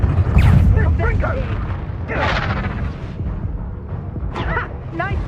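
Confringo fire spell blasts in Hogwarts Legacy, a loud booming burst at the start followed by crackling impacts and further bursts amid combat, with a player shouting over the action.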